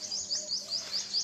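House sparrows nesting in a date palm chirp in quick, bright, evenly spaced calls, several repeated notes in a row, clear and fairly close.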